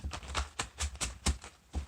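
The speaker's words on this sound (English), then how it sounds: "One more good shuffle." A deck of self-care oracle cards being shuffled by hand in a series of quick, soft riffling bursts and taps, faint and close, with no talking.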